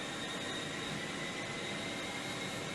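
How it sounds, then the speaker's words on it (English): A jet aircraft passes in the DCS World flight simulator, a steady broadband roar holding level throughout, with no voices. "Oh, there goes that jet."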